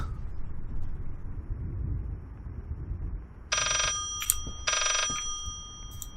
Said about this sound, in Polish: Boże, co te telefony?